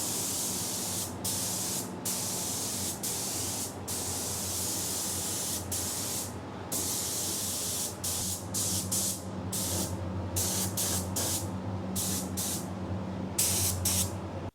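A spray gun applies paint to a 1949 U23 truck's rear axle casing, hissing steadily in long bursts separated by brief pauses, close and fairly quiet.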